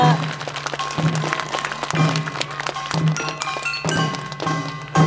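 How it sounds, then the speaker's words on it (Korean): Audience applause at a ceremony marking a national treasure designation at Samcheok's Jukseoru pavilion, a dense, steady patter of many hands clapping, moderately loud with sharper individual claps rising from the crowd. "여러분 두 분을 큰 박수로 맞아주시기 바랍니다"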